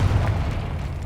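Confringo fire spell blasting in the Hogwarts Legacy video game, a single loud, deep boom that rolls out for about a second with heavy low rumble.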